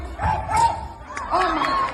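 A man gives his best imitation of a dog bark on a cruise, two rough, shouted woofs rising over a lively, noisy crowd, close and loud.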